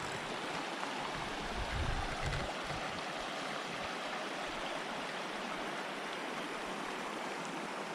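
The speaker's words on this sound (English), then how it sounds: "And here is the creek." A steady, close rush of a flowing creek in the Colorado mountains, an even broadband babble that continues without pause.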